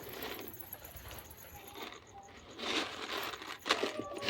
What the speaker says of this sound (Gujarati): આપણા ઓલા ઉપર કબૂતર જે બેઠા